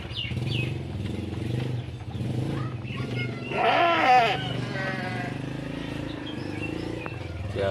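Garut sheep bleat out in a herding pasture, with several loud calls rising around the middle amid steady background rumble and murmuring voices.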